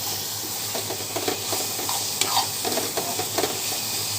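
Sun-dried lentil dumplings (bori) fry in oil with red amaranth saag, giving a loud, close, continuous sizzle with scattered pops and stirring scrapes.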